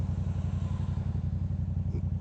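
A 2016 Yamaha FZ-07 motorcycle with an M4 aftermarket exhaust holds a steady, throbbing low rumble up close, with no talking.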